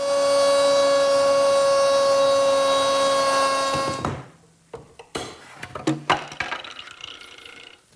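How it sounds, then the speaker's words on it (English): A router on a jig cuts a rabbet in wood for a bookcase, a loud steady high whine for about four seconds, then spinning down and giving way to scattered knocks and handling clatter. "And I can make the rabbet with the same jig and router."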